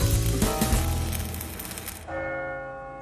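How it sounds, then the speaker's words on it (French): A large bronze church bell at the Royal Eijsbouts foundry in Asten, Netherlands, rings after a stretch of loud hissing, sizzling noise; its clear tone then hangs and sustains steadily, close and strong. "Ces énormes cloches peuvent peser plusieurs milliers de kilos et pourtant, elles doivent être précisément accordées et sonner parfaitement."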